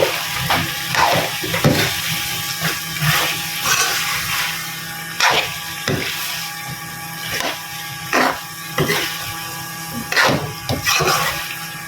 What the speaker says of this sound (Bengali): কেপসি আলু দিয়ে দিলাম এবার একটু নাড়াচাড়া করে নিব